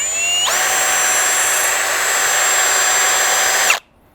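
A drill spins a hone inside a valve guide of a 7.3 IDI diesel cylinder head, starting up after a short pause into a loud, steady high whine that cuts off abruptly near the end.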